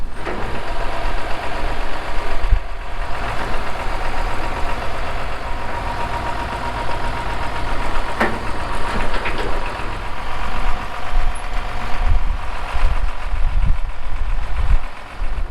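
A loader's engine runs steadily and loudly nearby as it scrapes snow off a trailer, with a continuous low rumble and faint scraping and knocking.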